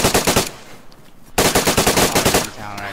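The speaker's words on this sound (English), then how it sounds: "I heard a shot." Rapid automatic gunfire in a video game, two loud close bursts of evenly spaced shots separated by a short pause, followed by a quieter tail.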